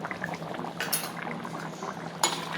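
A sweetened milk dish simmers in a pot with a soft continuous bubbling, broken by a couple of brief metallic clinks of a utensil against the pot.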